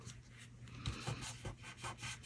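Folded card stock burnished with a tool while making a poinsettia swivel card, giving soft repeated rubbing and scraping strokes, close and fairly quiet, with no talk.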